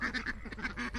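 Ducks kept on a pasture quack in a quick burst of overlapping nasal calls, several birds close together, fairly soft and close by, with no talking.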